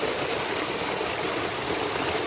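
A waterfall in the quiet Himachal hills gives off a steady, even rush of falling water, loud and close with no break, and no voices.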